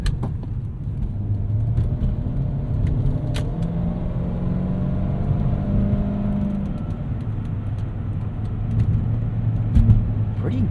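1998 Lexus GS 400 driving at about 50 on Blizzak WS90 winter tires on dry road, a steady interior engine hum and tire rumble heard from inside the cabin, with a voice talking over it.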